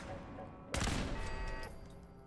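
Automated turret gunfire in the Fallout 4 video game: a sudden loud burst of rapid shots that rings on for about a second before fading into a lingering rumble.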